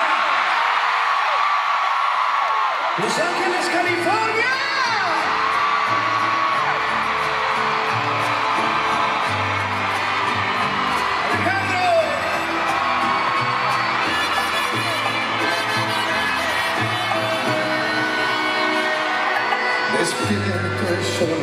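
At The Forum in Los Angeles, a concert audience cheers and whoops as one performer comes onstage with another. A steady roar of crowd noise carries throughout, music builds beneath it, and an announcer's voice is heard early on.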